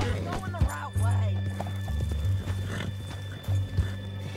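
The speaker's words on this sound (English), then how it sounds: "Can this horse, like, calm the hell down?" A restless horse in Red Dead Redemption 2 snorts and whinnies close by with clip-clopping hooves, mixed with game character dialogue.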